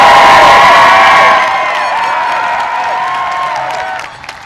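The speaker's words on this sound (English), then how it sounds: "Big round of applause for the class of" A large crowd at the Jackson Memorial High School class of 2022 graduation cheers, whoops and claps loudly, then eases to a softer, steady roar before tapering off near the end.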